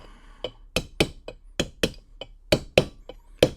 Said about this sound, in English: I'm going to tap this bearing in over here